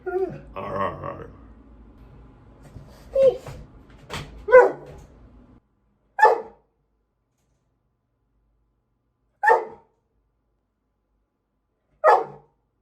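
A dog named Boomer barks indoors, first mixed with some talk and rustling, then several loud single barks spaced a few seconds apart against silence.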